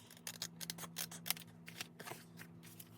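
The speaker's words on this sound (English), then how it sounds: "First, I'm going to cut the bottom of this to match." Scissors snip through the bottom of a paper tag in a quick series of crisp, close cuts with short pauses between, alone with no voices.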